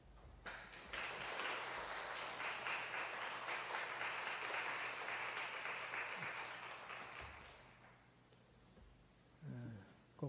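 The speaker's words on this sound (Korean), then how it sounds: "나오실 때 박수로 환영하겠습니다" Church congregation applauding to welcome a preacher to the pulpit during a Sunday service, a steady sustained round of clapping that swells, holds for several seconds and fades out, followed by a brief voice.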